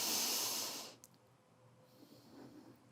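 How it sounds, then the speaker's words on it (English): A slow, controlled breath out during a pelvic floor exercise, a close, loud airy rush lasting about one second, then fading to quiet room tone. "Go ahead and breathe in through your nose and slow controlled exhale."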